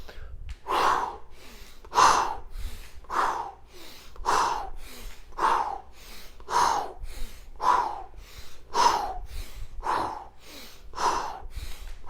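Rhythmic, breathy exhalations during a twisting workout exercise, about a dozen strong puffs at a steady pace of roughly one per second, close and clear with no talking.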